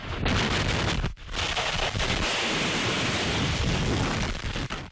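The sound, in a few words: thunderstorm with rain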